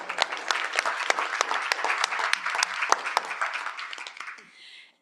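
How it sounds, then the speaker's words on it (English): Sustained audience applause at a board of directors meeting, dense steady clapping from a room full of people that carries on for several seconds before thinning out and fading near the end. "I think we should all give them another round of applause."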